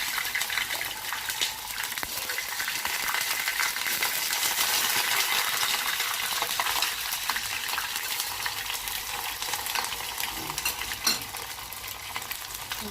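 Chicken nuggets deep frying in hot oil give off a dense, continuous sizzle and crackle that stays steady and fairly loud throughout, with no voices over it.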